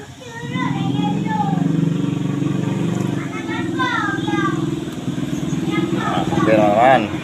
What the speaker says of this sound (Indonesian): Coba tes dengkol.